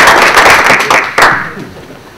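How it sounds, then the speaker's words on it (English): Seated attendees at a military chiefs' orientation breakout session give a short round of applause, a loud burst of many hands clapping that thins and fades away within about two seconds. "Y'all please give them a round of applause."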